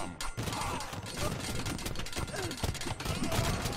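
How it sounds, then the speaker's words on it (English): Hand cannons firing in an Age of Empires match, a rapid irregular volley of sharp cracks and thuds at mid distance, mixed under a commentator's ongoing talk. "the hand cannons are back out"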